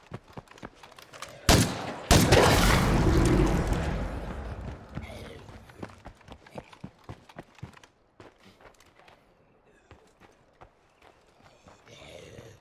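Gunfire erupts in State of Decay 2: a sharp shot, then a loud dense burst of rapid shots that trails off, followed by scattered lighter impacts and footsteps, with no talk over it.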